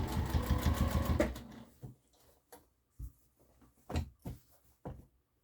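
A sewing machine stitches down a harvesting apron in a fast whirring burst for just over a second, then a few short, quiet mechanical clicks and knocks follow.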